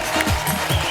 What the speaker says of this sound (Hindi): आप सबकी जोरदार तालियों के बीच please welcome mister Jimmy Shergill, mister Abhimanyu Singh